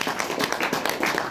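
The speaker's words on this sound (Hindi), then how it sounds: "जोरदार तालियां सर सबके लिए" Audience clapping for award recipients at a K2pools rewards celebration, a close, steady patter of hand claps from a modest crowd.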